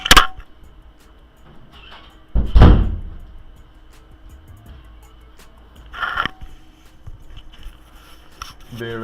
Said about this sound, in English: There, I closed the door.